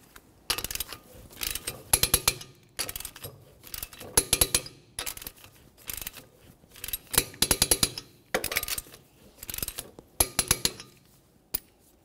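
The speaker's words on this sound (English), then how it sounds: "let's torque these to 80 foot-pounds in a crisscross manner" A torque wrench ratchets nuts to 80 foot-pounds in a crisscross pattern on a 1994-1997 Honda Accord. Quick clicking runs repeat in separate bursts with brief pauses, and metallic clinks sound close by.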